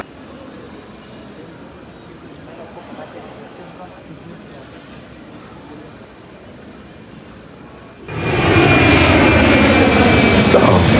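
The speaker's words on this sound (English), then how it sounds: "I am at the airport and I am about to leave." Aircraft engines at an airport, a steady low rumble for several seconds that swells sharply into a loud, close roar near the end, with some voice under the noise.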